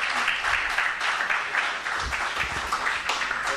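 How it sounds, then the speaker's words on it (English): Audience applause for Tariq Saeed Sehgal at a TiE Talk, a steady, dense wash of many hands clapping that fills the whole stretch with no voices over it. "Let's give him another round of applause to Mr."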